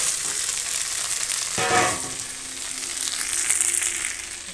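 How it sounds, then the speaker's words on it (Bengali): Cumin, ginger and chilli paste frying in a pan on a gas stove for a soybean dish: a steady close sizzle with a brief louder stirring burst partway through, and no talking. "জিরে, আদা, লঙ্কা বাটা দিয়ে দিয়েছি। এখন এটা কষিয়ে নেব।"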